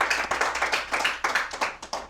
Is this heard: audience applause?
yes